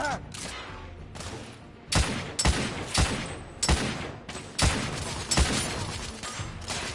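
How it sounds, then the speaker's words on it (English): Heavy gunfire in the video game The Order: 1886, with loud sharp shots and bursts coming at irregular intervals over a roaring background of battle noise. "I'm under heavy fire!"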